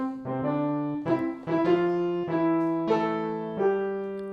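A keyboard instrument plays Happy Birthday as a canon answered at the third, two lines of plucked-sounding notes overlapping in an even rhythm, moderately quiet and free of speech.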